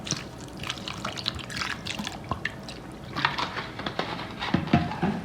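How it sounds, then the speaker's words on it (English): A generous splash of Filipino vinegar poured into chicken adobo, a trickling, dribbling liquid sound lasting several seconds against faint kitchen background. "put a generous splash of vinegar"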